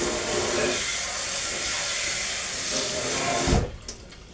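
Warm water runs from a tap over a 3D-printed part being rinsed, a loud continuous rushing hiss that cuts off abruptly near the end, leaving a few faint drips and clatters.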